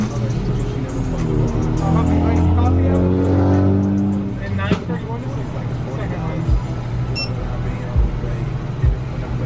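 A vehicle engine rises and roars past close by, then fades, with background chatter and clatter continuing afterward.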